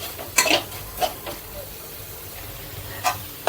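Spices for Goan-style tender coconut prawn curry are sautéed in a pan with a soft sizzle, punctuated by a few scraping stirs and utensil clinks against the pan, fairly quiet, with no talk over it.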